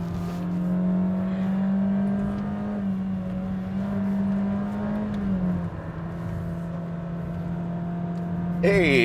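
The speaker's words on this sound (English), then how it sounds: "So you hear the engine roaring." A Honda City's engine roars steadily while climbing the Genting hill road, a loud, sustained drone with a strong low hum that dips slightly midway, heard from inside the car and rising again at the end.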